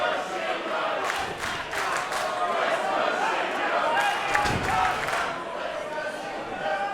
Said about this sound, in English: Crowd cheering on Shingo, willing him on.